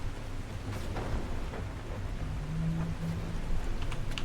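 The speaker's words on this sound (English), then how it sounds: "Pretty sure that was thunder" Thunder in the video game The Last Caretaker, a low, steady rumble rolling beneath rain-like hiss throughout, fairly distant and without a sharp crack.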